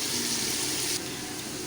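A cup of water pours steadily into a cooking pot of chicken yakhni pulao, a continuous splashing gush that drops slightly in level partway through.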